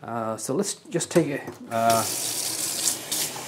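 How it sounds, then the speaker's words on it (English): Water is poured from a cup into a Mixpresso Ultimate 2-in-1 single-cup coffee maker, a steady splashing hiss close by that starts after a person speaks. "So when you're pouring water, it might just spill."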